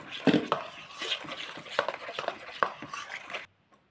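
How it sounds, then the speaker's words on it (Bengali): Flour being mixed little by little into palm fruit batter in a bowl, close, wet squelching and scraping strokes in an irregular rhythm that stop abruptly near the end. "এই আটাটা আমি অল্প অল্প করে মেশাতে থাকবো।"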